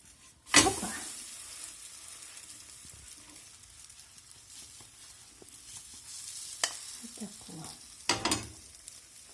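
Soft sizzling of a zucchini pancake frying in a pan, with a few scraping clinks of a spatula against the pan and quiet movement noises.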